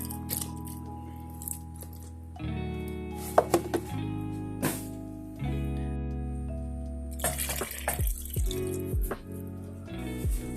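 Water runs steadily from a tap into a measuring cup, with changing pitch as it fills, punctuated by a few clinks and drips.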